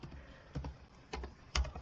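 Typing on a computer keyboard into ServiceNow, a few close, soft keystrokes in a short irregular burst, the last one sharper and louder.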